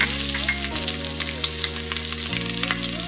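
Four green chilies sizzle in hot oil, a steady crackling fry that runs the whole time beneath sustained background music.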